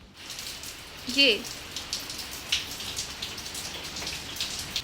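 Rain falling outside in the monsoon season, a steady hiss of drops with scattered patters close by, and a brief voice speaking near the start.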